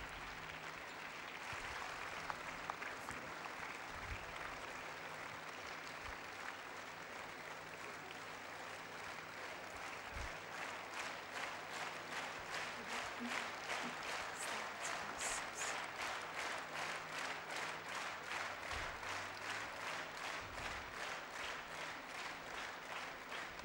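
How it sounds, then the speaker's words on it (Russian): A church congregation breaks into applause, scattered clapping that swells into a dense steady rhythm over twenty seconds, with a faint crowd murmur underneath. "Церковь, давайте мы будем сопровождать аплодисментами сейчас."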